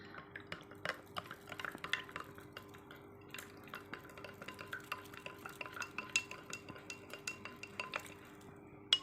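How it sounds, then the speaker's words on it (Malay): A spoon stirs cocoa powder into warm water in a glass, producing a quick run of light clinks and taps against the sides, close and quiet, with no talking. "Seterusnya, kita masukkan serbuk koko di dalam air suam dan kita adukkan."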